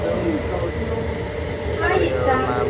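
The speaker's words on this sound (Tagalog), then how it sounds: "So sasakay kami ngayon sa tren guys." A metro train in Taiwan rumbles along the track with a steady low roar and rattle, heard from inside the carriage while passengers chat nearby.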